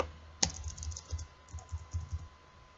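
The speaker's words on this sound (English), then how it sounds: "let me type it here" Keys on a computer keyboard being typed in a short, uneven run of soft clicks after one sharper opening tap, close and fairly quiet with no talking.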